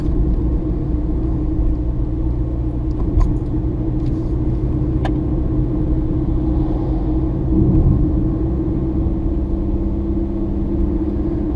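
A car drives along with a steady, loud road rumble and engine drone from inside the cabin, broken only by a few faint rattles and no speech.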